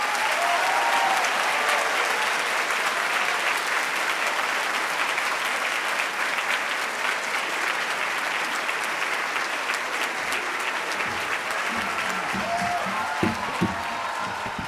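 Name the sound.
audience applause welcoming festival speakers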